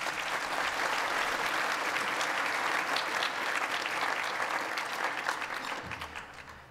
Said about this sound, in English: Please give another round of applause to Minister Ed Husic and CEO Kylie Walker.